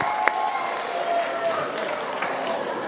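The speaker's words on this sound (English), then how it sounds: "Let's give them a round of applause as they walk off stage." Audience at a state FFA convention session applauds as speakers leave the stage; moderate, steady clapping and crowd noise continue throughout, with a sharp clap or knock standing out briefly near the start.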